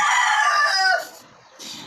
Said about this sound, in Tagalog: May manok na naman po tayo.